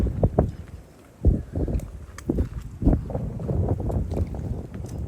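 Gusts buffet the microphone in low, rumbling bursts that come and go, with brief calmer gaps between the blasts.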